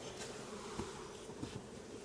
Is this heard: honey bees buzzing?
yes